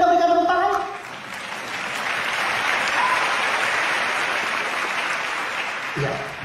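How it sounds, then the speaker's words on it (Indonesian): Audience applause breaks out at a comedy show after a brief voice, a dense, steady clapping that carries on for about five seconds and fades near the end as another voice starts. "Boleh kita berikan tepuk tangan?"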